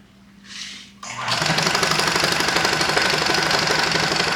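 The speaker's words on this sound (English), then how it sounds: "I really want to get this mixer run, or this shaker working. So let me flip this on." Homemade shaker machine switched on, a faint click and whir followed by a sudden loud, steady mechanical rattle and hum that keeps running close by without letting up.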